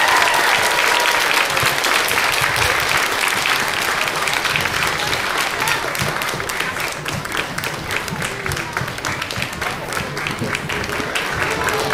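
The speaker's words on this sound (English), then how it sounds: "Let's give them a round of applause as they step off the stage." An audience at a children's musical applauds steadily as the young performers leave the stage, a dense, loud wash of clapping that holds for the whole stretch.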